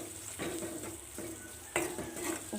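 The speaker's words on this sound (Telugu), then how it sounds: "కారం అంతా నూనెలోనే ఫ్రై కావాలి." Chili powder frying in oil while being stirred, a steady sizzle with repeated scraping strokes of a spoon against the pan at an irregular rhythm, close and without speech.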